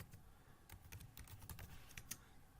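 Typing on a computer keyboard at a terminal, a quick run of soft close key clicks and taps, faint and alone with no talk.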